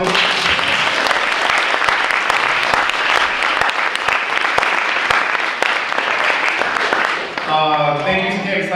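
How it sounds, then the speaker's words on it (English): At a campus talk session, an audience breaks into sustained applause, a dense, loud burst of many hands clapping that rolls on for about seven seconds before fading as a speaker's voice comes in. "Give her a round of applause, please."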